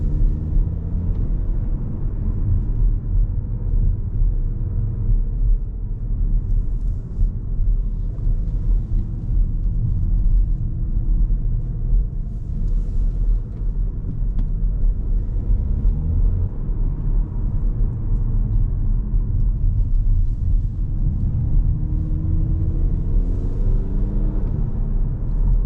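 Steady low road rumble and engine drone from an Audi A5 Avant TDI MHEV Plus Quattro (2025) cruising at night, continuous and close inside the cabin with no talk.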